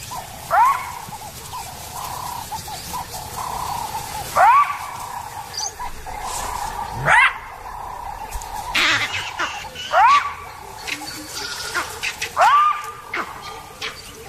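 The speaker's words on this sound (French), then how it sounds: "Aux aboiements des chacals font écho les cris des singes verts qui se font entendre dans le lointain." Jackals give repeated sharp barking yelps while vervet monkeys sound rising-falling alarm calls, several spaced bursts over distant outdoor ambience, sounding somewhat far off.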